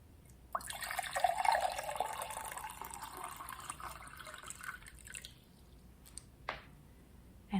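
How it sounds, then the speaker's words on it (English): French wine pours into a glass in a steady liquid gurgle lasting several seconds, tapering off, followed by a few faint clinks and taps. "French wine it is. Let me pour you."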